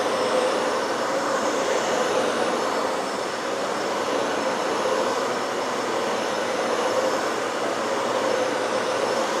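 A Dyson Ball Animal 3 vacuum cleaner runs with a steady, even whooshing whine that holds at a constant moderate level throughout, with no talking.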